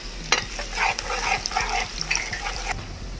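Ginger and onion sauté in a pan, a close crackling sizzle with quick stirring scrapes and a few sharp knocks over a low steady hum, brief and fairly loud, with no speech.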